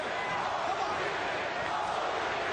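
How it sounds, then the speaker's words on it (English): Boxing arena crowd at a heavyweight title fight between Evander Holyfield and Lennox Lewis, chanting in the 12th round as a dense, steady roar with no clear breaks. "Crowd trying to chant Holyfield into yet another of his dramatic career moments"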